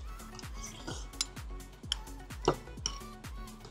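A spoon mixing halo-halo, knocking against the cup in a steady, regular rhythm of about two strokes per second with bright little clinks of ice, close and clear with no talk.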